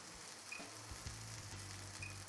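Pan on an induction hob giving a faint, steady sizzle with soft background hiss, a few light clicks and knocks, and brief high electronic tones.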